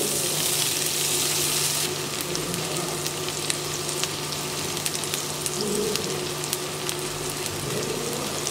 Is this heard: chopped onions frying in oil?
yes